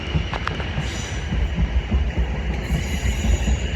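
A fast South Western Railway train passes through Vauxhall on the South West main line, a steady, loud rumble of wheels on track with a few brief high squeals, continuous and alone without talk.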